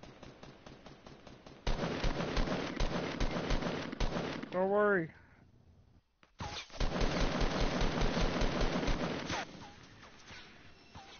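Fortnite gunfire: bursts of rapid shots from 1.7 to 4 seconds and again from 6.5 to 9.5 seconds, loud and close, with a sharp whistling tone near 5 seconds. Players talk over the shooting.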